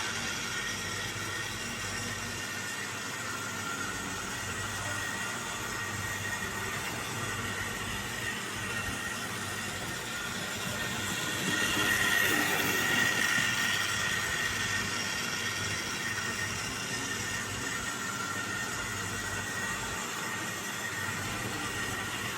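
A repaired Hornby Bulleid Squadron model locomotive running on track, a steady whirring motor hum that swells a little as it comes up to speed and then settles, continuous and close, with no talking.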